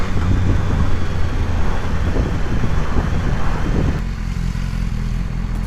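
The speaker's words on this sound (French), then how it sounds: "le pot qui pétarade à chaque fois que tu relâches l'accélérateur" BMW S1000R motorcycle with a loud, steady exhaust roar and rapid crackling pops as the throttle is released, the note dropping to a lower rumble near the end.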